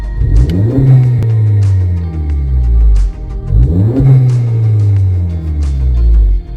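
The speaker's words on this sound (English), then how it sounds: "I'm gonna go ahead and just put it on neutral and rev it up" A 2018-2020 Honda Accord engine with an AEM intake revs hard twice in neutral, each burst climbing then dropping back to a deep rumble, loud and close with no talking.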